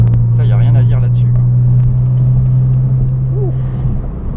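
Porsche 911 997 Carrera S 3.8 engine droning steadily inside the car while driving, a low continuous rumble with a voice speaking over it early on.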